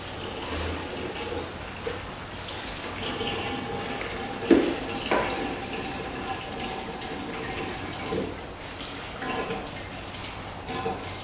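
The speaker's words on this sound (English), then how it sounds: "let's get some gas in here" Gasoline poured into the tank of a 2-stroke dirt bike, a steady liquid trickle and splash running for several seconds in a quiet space, with a brief clunk partway through.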